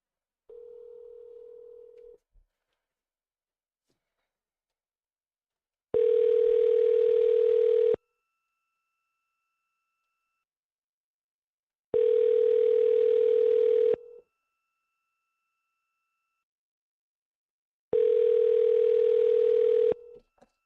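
A telephone line on hold with a car dealership plays a steady electronic tone in repeating two-second bursts separated by several seconds of silence, loud and clean with no voices.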